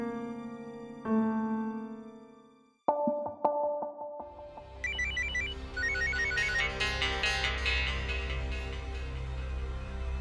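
Phone ringtone in a Hindi TV drama: a melodic electronic tune plays alone, pauses, then returns louder and fuller with a beat, close and steady.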